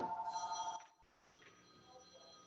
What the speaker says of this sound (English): I'm sorry, but my phone is ringing here.